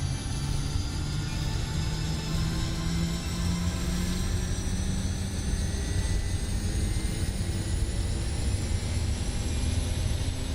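Pilatus PC-12 turboprop engine in Microsoft Flight Simulator spooling down to ground idle, a steady loud turbine whine and prop drone with slowly sliding tones, continuous with no talk.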